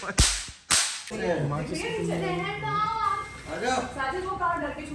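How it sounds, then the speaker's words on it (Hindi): Sharp popping shots from a toy or cap gun, two loud cracks close together near the start, followed by children talking and playing. "दंगे हो गए, दंगे, फायरिंग हो रही है।"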